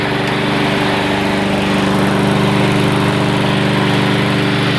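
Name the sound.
self-propelled lawn mower running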